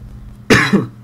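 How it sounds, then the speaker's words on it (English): A single sharp cough bursts out close to the mic, short and loud, over faint background hum. "Excuse me, a little cough there."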